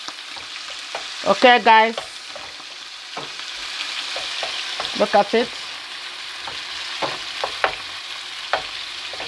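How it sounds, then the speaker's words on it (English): Chicken and king prawns sizzle steadily in a saucepan of oil while ginger rice is being prepared, a close, continuous fry with bursts of stirring and clinking, as a voice talks briefly over it. "chicken and the king prawns. You can use any seafood. You can use any meat of your choice, okay? So it's frying there now."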